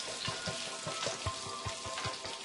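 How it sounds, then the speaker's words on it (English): Calamari frying in a pan, cooked until crispy and brown for a Caesar salad, gives a steady close sizzle with quick crackling pops spread evenly through it and no voices. "calamari cooking, and you're just trying to get it crispy and brown"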